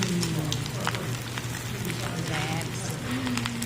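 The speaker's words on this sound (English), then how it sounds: "our main dish is the pork bibimbap. Can you hear it sizzling?" Pork bibimbap sizzles steadily in a hot stone bowl at a Korean restaurant in Taoyuan, Taiwan, a close crackling hiss heard under a voice and background chatter.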